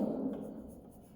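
A pen or pencil scratches briefly across a paper page as an answer is written, a soft close rubbing stroke lasting about a second.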